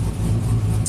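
A tuned 2000 GMC Sierra 5.3 V8 with an aftermarket camshaft and exhaust, misfiring and prone to stalling, runs close by with a low, loping, uneven idle rumble.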